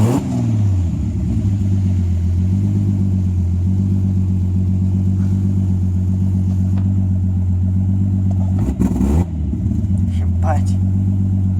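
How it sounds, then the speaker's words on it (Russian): A turbocharged BMW E46 with an M52B28TU straight-six, running rough with smoke and knocking, holds a steady loud full-throttle roar with pitch shifts, while people talk over it. "Вот газ тупо в пол."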